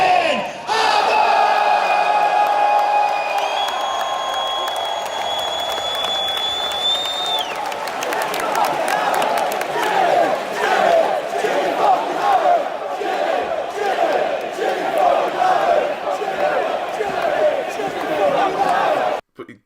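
A packed wrestling arena crowd roars and chants for the champion's entrance, loud and sustained with cheers and claps, over entrance music at first, before cutting off abruptly.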